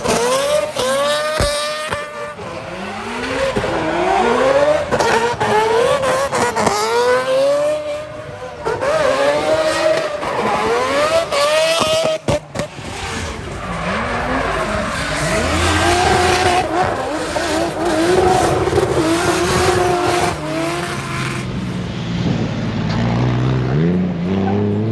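Drift cars at an Irish car show skid and rev hard without pause, tires squealing over rising and falling engine howls, loud and close, one sweep after another.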